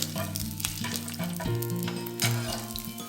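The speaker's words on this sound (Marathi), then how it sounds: "हे सगळं व्यवस्थित आपल्याला थोडंसं फ्राय करून घ्यायचं आहे।" Garlic cloves, cinnamon pieces and whole cloves fry in hot oil for pea pulao, with a continuous loud sizzle and stirring heard beneath prominent background music.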